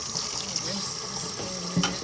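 Tap water runs steadily into a kitchen sink while broccoli is rinsed under it, a close continuous splashing hiss with faint background sounds.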